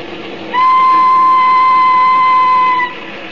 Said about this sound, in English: a young and handsome widow, Lucy Muir, left the home of the mother and sister of her departed husband and boarded a train.